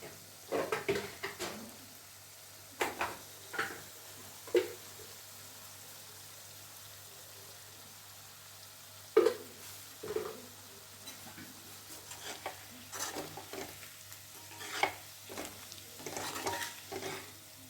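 Potatoes fry in a pan for aloo fry, a quiet sizzling hiss broken by several sharp stirring scrapes and clatters of a spatula at irregular intervals, with no talking.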